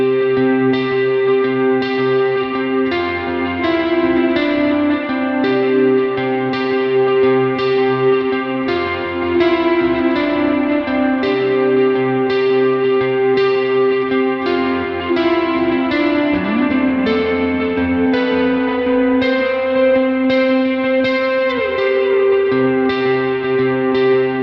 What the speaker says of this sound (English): We're just using a little bit of compression, a dotted eighth delay, and kind of a medium reverb.